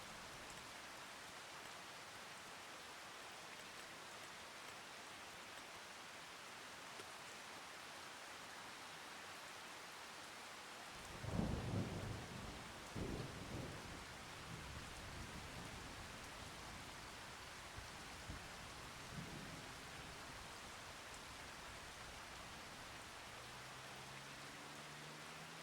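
Steady hiss of rain falling in Farming Simulator 25, broken partway through by a deep rolling thunderclap and a few fainter rumbles, with no talking.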